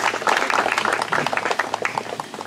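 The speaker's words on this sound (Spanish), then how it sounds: "Fuertes palmas, por favor." An audience claps steadily at an official certificate ceremony in Cueva de Palestina, a dense, even patter of many hands that holds for the whole moment and thins slightly toward the end.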